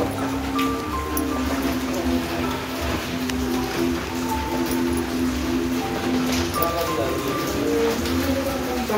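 Rain falls steadily in a continuous broad hiss, with faint voices and tonal background sounds mixed in underneath.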